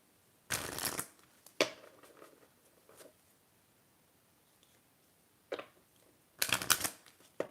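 Tarot cards are shuffled in close, crisp riffling bursts, a loud flurry near the start and another near the end, with softer card taps and slides between and quiet gaps.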